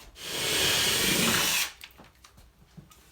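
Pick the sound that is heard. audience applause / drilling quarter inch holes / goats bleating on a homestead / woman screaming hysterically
drilling quarter inch holes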